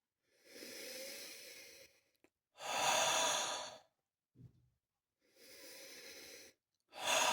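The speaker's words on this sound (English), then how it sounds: "Let's have a sniff." Person sniffing a freshly poured Gordon's gin and tonic, several long breathy inhalations close to the microphone separated by short pauses, with no talking.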